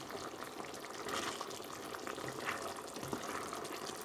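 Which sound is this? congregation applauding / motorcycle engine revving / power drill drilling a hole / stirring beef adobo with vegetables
stirring beef adobo with vegetables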